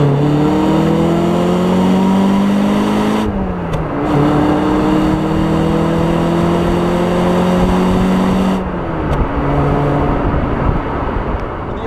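A Citroen BX 16v's engine revs hard while driving, loud and close, climbing steadily in pitch through the gears with two brief dips at gear changes, a sustained strained drone and no talking.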